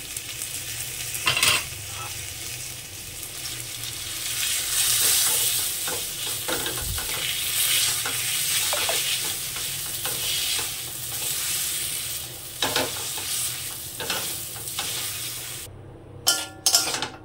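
Mashed elephant foot yam frying on very low gas with fried onions and chilli, a steady soft sizzle with occasional stirring scrapes and knocks of a spoon against the pan, no talking.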